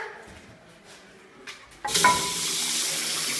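Water suddenly gushes from a tap outdoors, starting after a quiet stretch of faint background sounds and then pouring steadily and loudly until the end.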